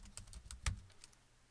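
Quiet keystrokes on a computer keyboard tap out in a quick irregular run, with one sharper, louder press in the middle and the rest soft and close.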